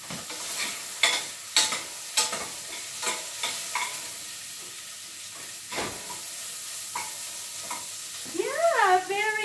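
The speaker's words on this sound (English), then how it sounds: "saute the turkey" Turkey sautés in a pan for turkey noodle soup, a soft sizzle under a run of sharp utensil scrapes and stirs, ending with a rising whistling, wavering hiss.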